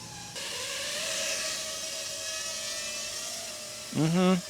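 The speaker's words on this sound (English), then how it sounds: "That's a pretty typical quad sound." 5-inch FPV quadcopter drone propellers whine steadily with a high buzzing hum close by, then a short rising pitch swoop near the end.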